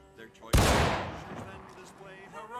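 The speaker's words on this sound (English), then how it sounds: "I'm going to fire, and right after I fire, I'm going to try to hit that reload." A rifle fires in the Civil War shooter game War of Rights, one sharp, loud report with a long rolling decay, followed by faint mechanical reload handling.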